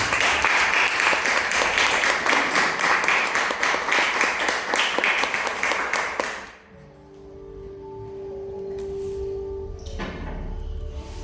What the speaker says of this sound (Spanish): Denle un aplauso al Eterno una vez más